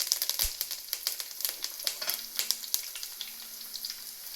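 Crushed garlic and curry leaves frying in hot oil, a steady crackling sizzle with sharp pops and spatters throughout, close and fairly loud, with no talking.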